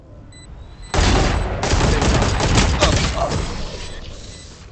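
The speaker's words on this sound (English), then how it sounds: "I damaged that Sage. 3 bullets to the head, 3 bullets to the body with a shotgun" Shotgun fire in Valorant, a sudden loud blast followed by dense, rattling gunfire and impacts that stay loud before slowly easing off, with no talking.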